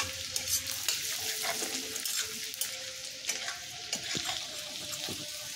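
Chopped ginger and garlic frying in a pan for chili chicken, a soft continuous sizzle broken by frequent clinks and scrapes of a spatula stirring, close and moderately quiet.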